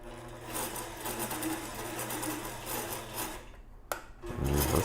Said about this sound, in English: You just have to sew it on a strip.